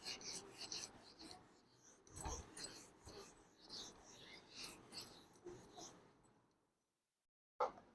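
A board is rubbed clean during a Hindi grammar lesson, giving a steady, close scrubbing rasp in repeated strokes for about six seconds before it falls silent, followed by a single brief knock.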